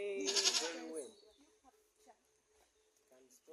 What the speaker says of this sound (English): I think this goat disturbs them into action.